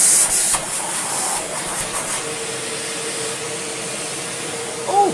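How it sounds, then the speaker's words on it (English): A Shark vacuum cleaner's suction motor runs with a steady whirring hiss, starting after a few opening clicks and staying even and close, and near the end the pitch rises slightly. "We have a working suction motor too."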